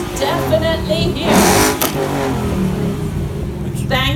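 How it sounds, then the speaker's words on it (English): A loud Ford Mustang engine with a straight-through exhaust revs hard with a raw, rasping exhaust note, rising and falling close by. "It sports a straight-through exhaust, as you can most definitely hear."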